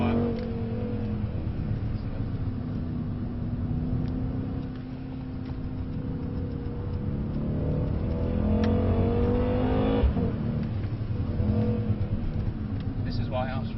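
A 2024 Mercedes-AMG C63 S accelerating on a track at Mercedes-Benz World, its engine note rising and falling steadily in the cabin under light, partial throttle, while people talk over it.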